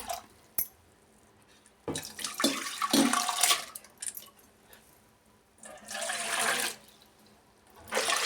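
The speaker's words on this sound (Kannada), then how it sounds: "ಬೇಳೆನ ತೊಳೆದು ಈ ಥರ ಸೇರಿಸ್ತಾ ಇದ್ದೀನಿ" Water splashes and pours in bursts as lentils are rinsed in a bowl, with gaps and clinks between pours.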